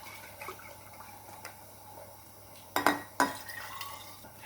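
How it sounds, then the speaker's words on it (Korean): Plain water poured into an empty tomato sauce jar to rinse out the leftover sauce in a home kitchen: a quiet, brief splash and glassy clinks near the end over low room hiss. "이 토마토 소스를 비운 빈 병에 물 1컵, 그냥 맹물입니다. 맹물 1컵을 부어줘서 이 소스를 다 청소를 해주게 해요."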